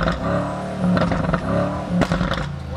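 A car engine sputters unevenly and revs in surges, loud and close, with rough clattering bursts between the rises.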